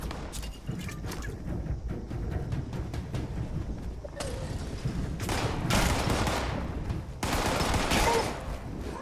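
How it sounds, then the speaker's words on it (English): Bursts of rapid gunfire in the video game Fallout 76, several dense volleys and crackling shots that grow louder toward the end over ongoing game noise. "I heard shoots to the left"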